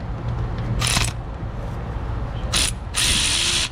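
Ratchet backing out a starter motor bolt on a Toyota Camry, with close, loud bursts of rapid clicking, one near the start and two more toward the end, separated by quieter handling noise.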